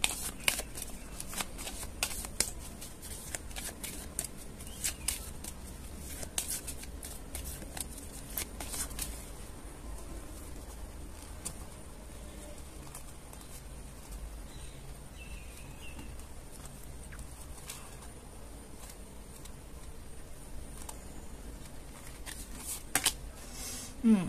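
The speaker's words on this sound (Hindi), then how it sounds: "तब तक मैं शफल कर रही हूँ" Tarot cards are shuffled by hand in a quiet room, a long run of soft riffling flutters and crisp card snaps, with irregular bursts repeating close up.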